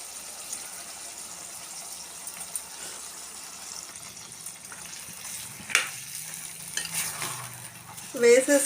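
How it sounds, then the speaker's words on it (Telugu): Curry with soaked chana dal is stirred and fried in a pan: a steady soft sizzle with scraping stirs, some clattering of the utensil near the end, close and moderate, no voices. "కొంచెం సేపు ఇలా ఫ్రై చేసేద్దాం"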